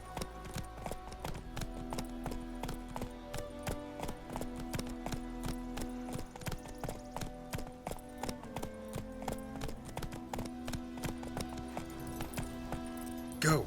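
A horse's hooves clip-clop at a steady trotting rhythm in The Witcher video game, even and continuous over a bed of background music, with a sharper hit at the end.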